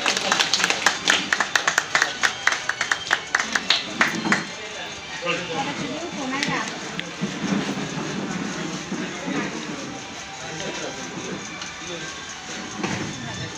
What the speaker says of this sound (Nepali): सबैजनाले ताली बजाएर स्वागत गरिदिनु हुनका लागि म हार्दिक अनुरोध गर्दछु